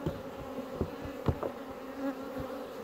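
A honeybee swarm hums steadily at a hive, a dense close buzz of many wings with a few brief louder passes over the drone.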